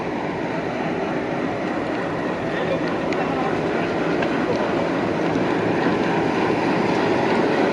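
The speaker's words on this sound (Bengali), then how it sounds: "প্রবেশ করছে আমাদের নতুন লোকোমোটিভ এটা পঁয়ষট্টি একচল্লিশ সিরিজের একটি লোকোমোটিভ" A WDM-3D diesel locomotive, number 6541, on Bangladeshi broad-gauge track pulls in with a steady, loud rumble of engine and rolling wheels, faint clacking running underneath throughout.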